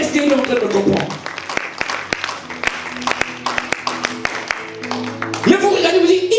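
Congregation members at a church sermon clap in sharp, separate strokes with an uneven rhythm, mixed with voices and a low sustained tone, growing fuller near the end.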